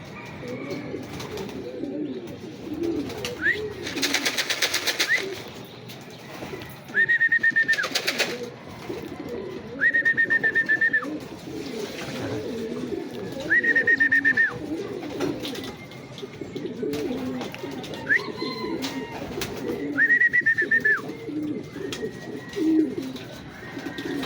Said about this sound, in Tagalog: Isa pa lang yung ibon natin na dumating.